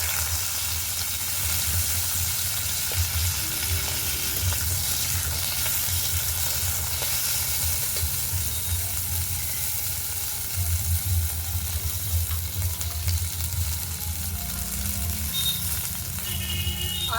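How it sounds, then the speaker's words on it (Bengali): Green beans dropped into hot mustard oil give a steady, close broadband sizzle with crackling that swells around the middle and continues throughout, with no talking. "তেলটাকে ভালো করে দেখুন গরম করে নিয়েছি। প্রথমে শিমগুলো দিয়ে দেব।"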